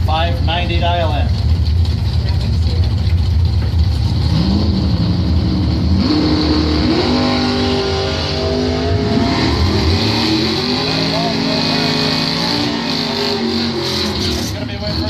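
Drag racing cars, including a 1969 Chevrolet Camaro, roar with loud, steady engine noise and revving throughout, with an announcer's voice running over the top.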